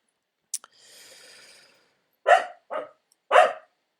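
In the morning, a dog gives a breathy snort and sigh, then three sharp, close barks in quick succession.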